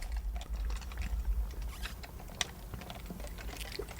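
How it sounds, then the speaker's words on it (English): Someone clatters on a computer keyboard in a quick irregular patter of small clicks and taps, faint and close, over a low steady hum. "Sounds like clattering on a keyboard."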